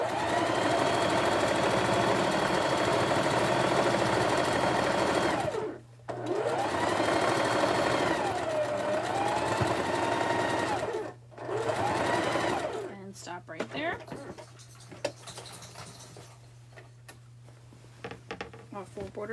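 A sewing machine runs in long steady bursts while quilt borders are stitched on, pausing briefly twice, then stopping; a low steady hum and some handling clatter follow, with someone speaking faintly at times.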